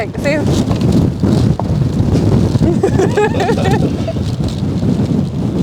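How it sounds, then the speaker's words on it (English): Loud, steady wind buffeting the microphone throughout, a continuous rumbling roar with people talking underneath it. "It's really windy outside."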